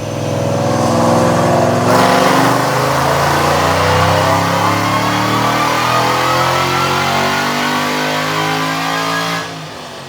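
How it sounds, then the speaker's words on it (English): A 3-valve Mustang with a Roush M90 supercharger makes a dyno pull, its engine roaring loudly and climbing steadily in pitch for about eight seconds before abruptly backing off near the end. "that was a dyno pull I did last week. 3-valve Mustang Roush M90 Supercharged"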